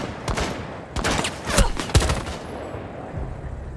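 Enemy gunfire in a first-person shooter: several bursts of rapid shots at an irregular pace, sharp and fairly close, fading out toward the end.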